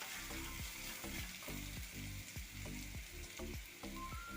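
Onions frying in a pan with salt stirred in, a dense close sizzle cut by repeated rhythmic scrapes of a spoon against the pan, about two each second.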